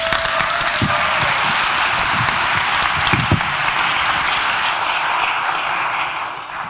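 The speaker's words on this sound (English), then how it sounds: "let's give him a round of applause" An audience welcomes a speaker at an evening talk with sustained applause, many hands clapping in a dense, loud wash that holds steady and fades slightly at the end.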